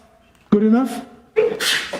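A single sharp sneeze bursts out nearby during a seminar, after a brief quiet moment, followed by a short spoken remark.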